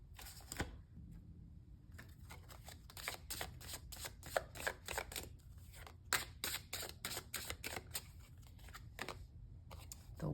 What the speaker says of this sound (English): one final shuffle here